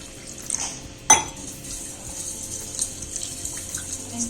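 A spoonful of citric acid powder and an equal amount of salt are stirred into water to dissolve, giving faint watery swishing and one sharp metallic clink of a spoon against a vessel.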